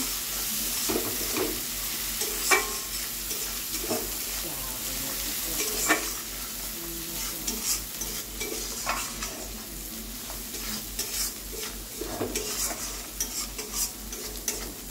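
Egg curry is stirred in a pan after Kashmiri chili powder goes in, with a steady oily sizzle and repeated scraping strokes of a spatula in an uneven rhythm, close and fairly loud, no talking.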